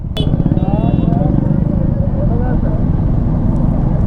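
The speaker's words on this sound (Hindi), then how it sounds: "लेकिन जो बाइक है ना भाई, वो अपनी स्ट्रगल कर रही है चढ़ने में।" A motorbike engine labours as it climbs a mountain road on the route from Manali to Padum near Shinkula Pass in heavy snowfall. It produces a steady, close, low rumble with a strained drone throughout.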